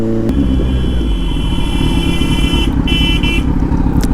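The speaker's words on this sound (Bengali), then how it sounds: "অনেকক্ষণ ধরে হর্ন মেরে যাচ্ছে" A vehicle horn honks twice, in short sustained blasts, amid busy traffic, over the steady loud rumble of engines and a nearby motorcycle.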